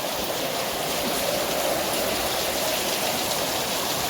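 A heavy downpour produces a loud, constant rushing hiss that stays even from start to finish, with no voices over it.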